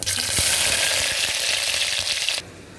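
Loud, close sizzling of tempering spices hitting hot oil, a steady crackling hiss that cuts off sharply near the end.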